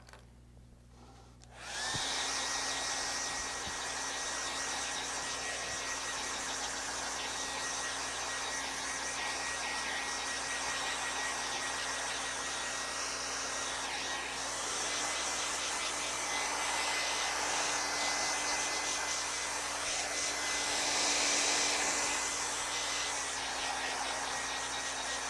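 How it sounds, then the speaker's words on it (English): A hair dryer blows at a painting to dry it, starting abruptly after a quiet moment and running as a loud, steady whir with a faint high whine for the rest of the stretch. "so I'm gonna hit with my hair dryer"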